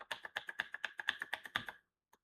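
Rapid typing on a computer keyboard, with about fifteen quick, evenly paced key taps close by at low volume, stopping after nearly two seconds with a couple of faint clicks afterward.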